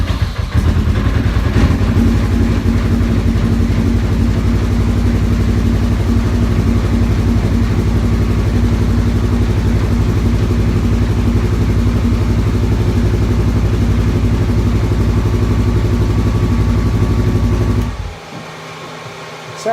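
A heavy engine idles steadily and close by for most of the clip, a low rumbling drone, then cuts off abruptly near the end; a newly installed RZR engine in a 1956 Chevy truck.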